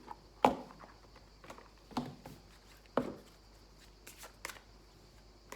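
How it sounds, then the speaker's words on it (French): Oracle cards being shuffled and drawn by hand, heard as three sharp, quiet card flicks and snaps spaced about a second apart, then a few softer taps, with no talking. "je vais vous tirer une petite carte aussi"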